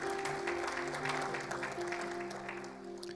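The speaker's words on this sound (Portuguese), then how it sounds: "dê um aplauso bem forte ao Senhor" A church congregation applauds, a soft, distant patter of clapping beneath a steady sustained organ or keyboard tone that runs through the whole moment.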